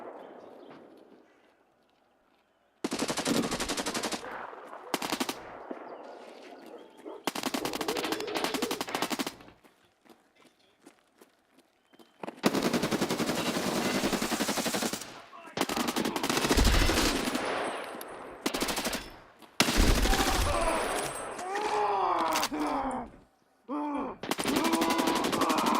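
Gunfire in the shooter game Escape from Tarkov Arena, with long bursts and scattered shots coming in loud stretches broken by short silences, plus other game sounds mixed in across the match.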